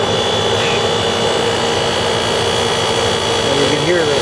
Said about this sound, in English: you can hear the compressor running. It's a little bit noisier than usual